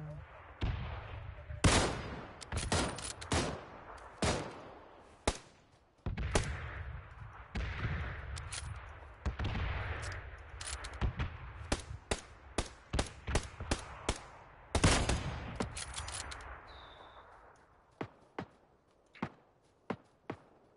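Bursts of PUBG gunfire on PS4 crack out in rapid sequences, with close single shots and short automatic volleys spread across the scene, ending in a few spaced sharp reports.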